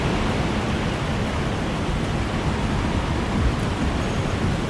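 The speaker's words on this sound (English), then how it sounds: "It's raining." Steady, dense hiss of rain falling in the video game Alone in the Dark, loud and unbroken throughout, with no voices.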